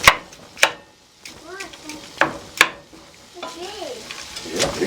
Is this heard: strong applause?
no